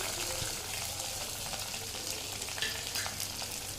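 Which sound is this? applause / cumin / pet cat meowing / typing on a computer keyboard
cumin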